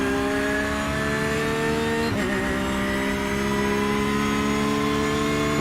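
An LMP2 prototype race car engine in a racing video game at Road Atlanta, droning steadily at high revs with a slight pitch dip partway through, loud and continuous with no talk.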